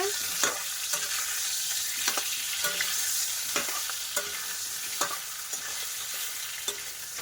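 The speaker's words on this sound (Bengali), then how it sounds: "এই যে এদিকে আলু ভাজা হচ্ছে" Potatoes sizzle in a pan in a home kitchen while a utensil stirs them, producing sharp, regular scrapes and taps over a soft, steady frying hiss.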